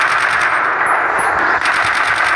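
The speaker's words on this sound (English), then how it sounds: "Shots fire back. Shots fire." Rapid automatic gunfire rattles in a video game shootout, a loud continuous stream of sharp shots with a slight echoing tail and no voices.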